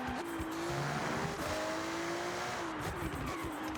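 An Italian performance car from Forza Horizon 6 holds a steady engine note with small throttle adjustments as the rear end slips, tyres faintly squealing, close and continuous.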